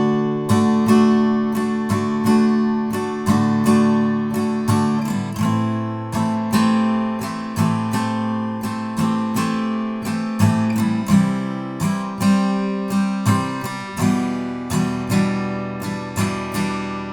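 Acoustic guitar strumming the first line of chords of a song, steady rhythmic strokes with ringing chords over about seventeen seconds, close and clear with no voice.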